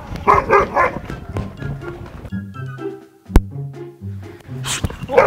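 A few sharp fake dog barks from a prank ring out near the start, then low thumps and scattered knocks, with another bark burst at the end.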